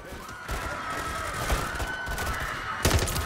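Gunfire from the Hurricane weapon on single-fire mode in Call of Duty: Modern Warfare 3 rings out in sharp bursts, with a loud crack near the start and another near the end over a busy game soundscape.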